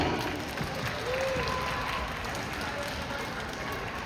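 An audience at a piano concert applauding the pianist: sustained, even clapping from a crowd, steady and moderately loud, with a little background murmur.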